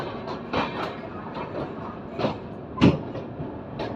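Sampark Kranti Express running behind an ALCO WDM diesel locomotive on an Indian railway route, with a steady rolling rumble and several sharp wheel clacks over rail joints, one especially loud near the end.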